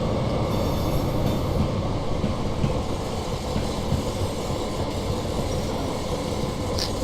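A Class 175 diesel train coasts steadily into a platform with brakes off, a continuous low rumble and rail noise, no voices, a constant drone throughout.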